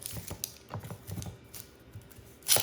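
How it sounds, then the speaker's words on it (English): Knife chopping an onion on a cutting board, a quick series of irregular crisp taps and cuts, close and fairly quiet, with no talking. "I will start with cutting the onion"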